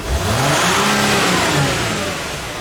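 A Dodge Sprinter van engine held at wide open throttle, a loud, steady droning rev that stays high and sustained throughout, close up with no talk.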